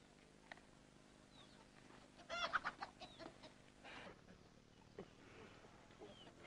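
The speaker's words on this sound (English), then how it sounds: "Shush, chicken." A chicken clucks close by in a short burst of agitated calls, then quieter scattered clucks and faint rustling in the background.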